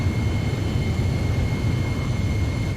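A jet aircraft in Ace Combat Zero cruises toward a refueling craft. It makes a steady, dense roar with a faint high whine on top, loud and unbroken, with no talking.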